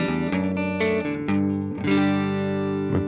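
Electric guitar played through the built-in Deluxe amp model of a multi-effects guitar, a slightly overdriven clean tone with sustained ringing chords and a few restruck notes, steady and close with no talking.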